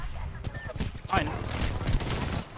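Video game gunfire crackles in dense bursts through the clip, mixed with a player's voice talking over it.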